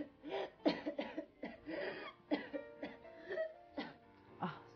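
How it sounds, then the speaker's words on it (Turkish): A person coughs repeatedly in a series of short, harsh bursts with brief pauses between, close and fairly loud with no talk. "Söyle şuna kessin şu öksürüğünü."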